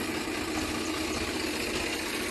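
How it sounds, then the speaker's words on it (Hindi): A Swaraj 735 tractor with a 35 HP engine, an old model around thirty years in use, idles with a steady, even low mechanical rumble and hum, close and continuous without talk. "और दोस्तों 35 एचपी का ट्रैक्टर है।"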